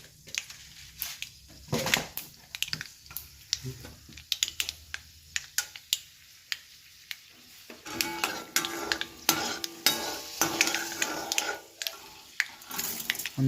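Mustard seeds and chana dal fry in oil for masala chitranna, sending out sharp, irregular pops and crackles that grow denser and busier partway through over a faint sizzle.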